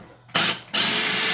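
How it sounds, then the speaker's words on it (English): Makita LXT brushless drill driver sinking a screw, two loud close bursts of whirring motor drive, a short one followed by a sustained longer run. "That sunk the screw almost 1/8 of an inch there. A lot of freaking power in this little drill."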